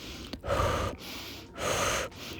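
Forceful breaths pushed out during a plank exercise with alternating shoulder taps, two long exhalations close and fairly loud, each separated by a brief pause, with no talking.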